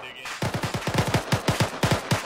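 Rapid bursts of heavy automatic gunfire from a big gun in the military shooter game ArmA 3, about fifteen loud, evenly spaced booming shots in a steady rhythm.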